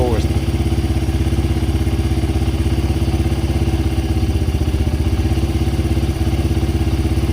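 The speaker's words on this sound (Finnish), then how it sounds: "pikkuhiljaa päästät kytkin tuntumaan sen, että rupee kierrokset laskemaan ja sit vedät takaisin" A pit bike engine idles and revs as the clutch is slipped, a loud, rapid, close thumping beat that rises and dips. A voice talks over it.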